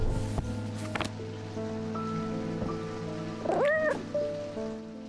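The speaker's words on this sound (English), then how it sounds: "Cat." A single clear cat meow rises and falls in the video game Strange Antiquities, sounding over soft sustained game music with a faint rain-like patter.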